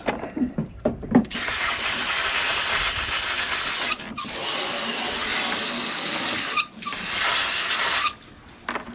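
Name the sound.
hose spraying water to clean blue crab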